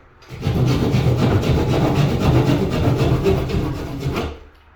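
A keyhole saw rasps through drywall in a steady run of quick back-and-forth strokes, close and fairly loud, with no talking.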